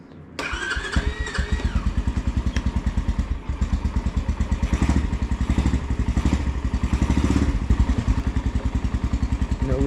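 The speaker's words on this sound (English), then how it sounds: "take 2 of riding the dirt bike for the first time" An X-Pro Storm 150 DLX dual sport dirt bike engine starts after a brief crank, then runs at a loud, close, pulsing idle that continues steadily throughout.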